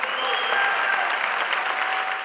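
Audience applause at a political forum on the left in Central America, a packed hall of young supporters clapping steadily and loudly throughout, a dense unbroken wash of hands.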